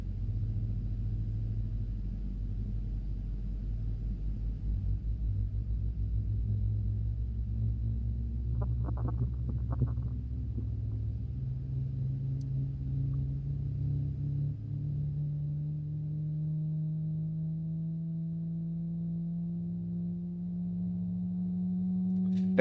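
A Boeing 777-300ER jet engine spools up inside a flight simulator game, a steady loud low rumble with tones slowly rising in pitch over about twenty seconds, continuous and without talk.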